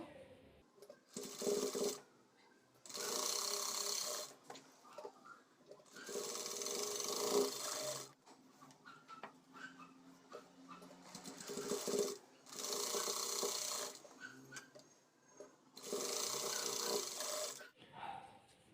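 Sewing machine stitching the back tucks of a boat-neck blouse, running in four or five separate bursts of a few seconds each with brief pauses between them, heard close and alone.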